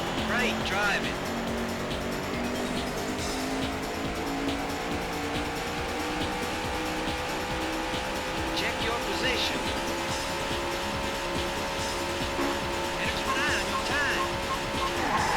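A racing car engine in a video game holds a steady, slowly rising whine as it climbs through the gears, with a person talking over the continuous motor drone throughout.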